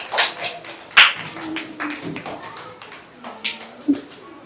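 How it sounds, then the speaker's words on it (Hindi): Children in a classroom clapping for a classmate, a scattered round of light claps and taps lasting a few seconds, with some voices mixed in. "ताली बजाओ सब बच्चे शान मोहम्मद के लिए"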